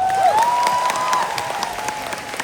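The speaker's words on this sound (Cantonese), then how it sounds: "希望大家俾啲掌聲。" Concert audience applauding in a large venue, a steady wash of clapping with a sustained tone running over it, fading slightly toward the end.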